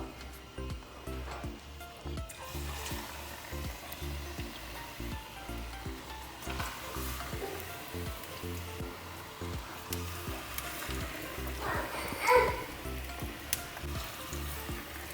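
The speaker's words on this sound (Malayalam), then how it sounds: "നല്ല ചൂട് ബജ്ജി അമ്മ വറുത്തിട്ടിട്ടുണ്ട്" Bajji fritters sizzle and crackle steadily in hot oil in a home kitchen, a continuous close frying hiss with faint stirring, no talking.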